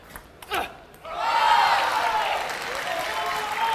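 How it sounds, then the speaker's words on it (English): Crowd at the 2023 US Open table tennis finals in the Ontario Convention Center cheers on a player: a short shout, then a sustained loud roar of cheering and clapping that carries on to the end. "Here's some words of encouragement from the crowd for Jing Bao."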